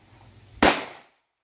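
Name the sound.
Girsan 1911C pistol firing .45ACP 230 grain Italian brass ammo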